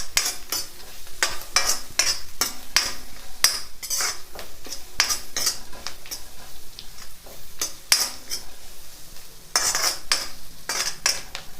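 A spoon stirs frying onions and leftover rice in a metal pan, giving repeated sharp, close clinks and scrapes in an irregular rhythm over a steady low sizzle, with no voices.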